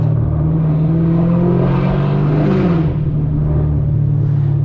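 A loud, modified Camaro ZL1 engine roars and revs continuously, its deep drone shifting pitch as it drops a gear, echoing off buildings, with no one speaking.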